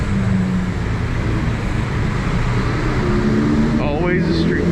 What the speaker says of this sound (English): Watch out here for the traffic.